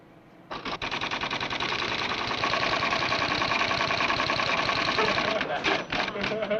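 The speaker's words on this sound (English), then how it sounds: "The typewriter is simply a device by which we communicate with computers." A computer's typewriter terminal clatters in a steady, dense, fast mechanical rattle that runs loud and continuous for about five seconds, then breaks into a few separate strikes at the end.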